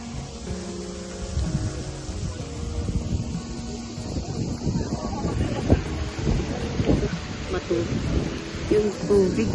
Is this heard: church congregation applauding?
no